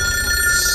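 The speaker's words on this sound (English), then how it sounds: "Can I answer the phone?" A telephone rings in an indie horror video game, a single loud, steady electronic ring burst lasting under a second.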